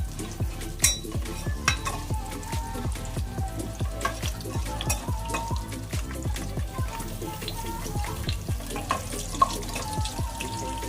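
A spoon repeatedly scrapes and taps a pan while raisins and urad dal fry in oil for vegetable pulao, giving a soft sizzle under regular knocking strokes, close up and moderately quiet.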